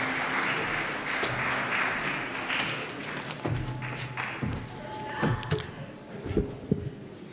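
Audience applause for a choir at an evening event on nonviolence, moderate and somewhat distant, mixed with taps and thuds and fading toward the end.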